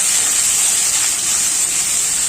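Two large sliced onions hitting a hot pan for mutton varuval, giving a loud, continuous hissing sizzle that holds steady throughout.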